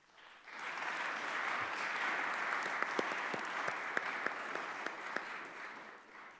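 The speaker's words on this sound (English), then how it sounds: "Now I want our audience to again give a round of applause to these incredibly courageous students." An audience at a congressional roundtable gives a sustained round of applause, a steady dense wash of clapping with a few sharper individual claps standing out, moderately distant.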